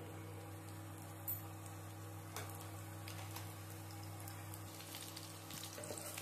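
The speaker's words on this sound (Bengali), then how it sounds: "ক্যাপসিকামটা হালকা ভেজে নেব," Capsicum frying in hot white oil in a wok gives a steady, close sizzle that runs through the whole stretch over a low background hum, with no talking.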